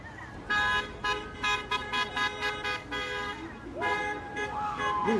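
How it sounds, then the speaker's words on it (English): Car horns honk repeatedly in a city street during civil unrest, a string of short blasts then longer overlapping toots at moderate distance, with a siren-like rising tone and voices talking underneath. "They're honking for people to get out of the road"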